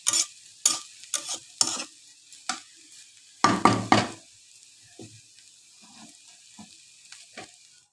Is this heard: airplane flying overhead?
no